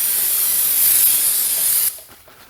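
Spray cleaner hissing onto a Ford Transit-250 rear brake rotor in one steady, close, loud burst of about two seconds that then cuts off into quiet.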